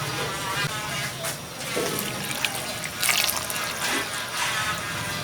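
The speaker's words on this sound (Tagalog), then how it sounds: "Mga dalawang tasang tubig lang." Water pours steadily into a cooking pot with a soft, continuous splashing for several seconds while a Filipino shrimp and pompano sinigang with tomato and kamias is being prepared.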